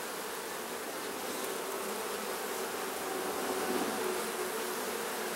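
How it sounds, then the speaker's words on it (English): Honey bees swarm over a hive brood frame, a dense continuous buzzing hum from many insects at once, close and steady across the few seconds with no voices. "A lot of bees on there."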